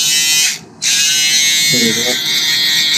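A handheld electric shaver buzzes steadily and loudly up close while cleaning up a barber fade, cutting out briefly, then resuming, with a voice speaking over it.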